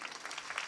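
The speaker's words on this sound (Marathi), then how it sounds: "टाळ्या वाजवा ना जोरदार." Audience at a devotional kirtan gathering claps loudly and steadily in a brief burst of dense applause from a crowd.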